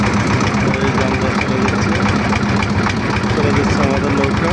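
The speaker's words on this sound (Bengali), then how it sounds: "চলে যাচ্ছে আমাদের নৌকা।" A river boat's engine runs steadily while crossing to the far bank, a loud continuous low mechanical drone with knocking pulses, close by and unbroken.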